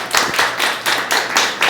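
A small audience gives a brief round of applause at a live body language show, sounding as a few rhythmic, close bursts of clapping that pulse in quick waves.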